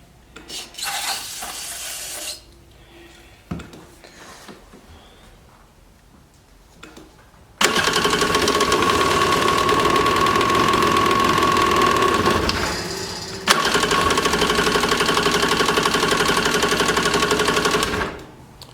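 A 1995 Yamaha WaveRunner jet ski engine on full choke with gummed-up carburetors, at first quiet with scattered clanks, then roaring loud and steady close by, briefly dropping before surging again.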